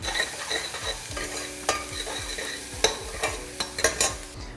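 Shallots sweat in a pan with a soft, continuous sizzle while a utensil stirs and scrapes them, leaving several sharp clicks and taps against the pan.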